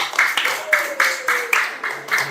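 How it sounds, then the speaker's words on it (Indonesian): Pupils in a primary school classroom clap in a rhythmic patterned applause, about eight sharp bursts of hand claps at a steady beat, close and loud, with a faint voice humming underneath. "Tepuk tangan."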